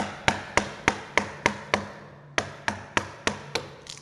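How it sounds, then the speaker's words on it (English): Hand chisel chopping out chunks of wood while building a sailboat with hand tools: a steady series of about eleven sharp, close strikes at even intervals, with one short pause midway. "restart at the other side, start chiseling"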